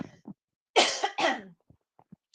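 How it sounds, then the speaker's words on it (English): Two harsh coughs in quick succession, close and fairly loud, followed by a few soft clicks and breaths. "Excuse me, I'm going to cough."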